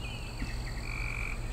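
A frog croaks steadily near a creek edge among leaves and grass, a continuous low croaking chorus with higher trilling calls layered above, fairly loud and unbroken throughout.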